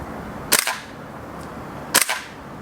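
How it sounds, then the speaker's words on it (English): Two sharp, loud single shots from a VFC HK416 gas blowback airsoft rifle, about a second and a half apart, each with a crisp crack and rattling bolt clack, in an open outdoor space. "Just going to show you guys how the gun's shooting right now."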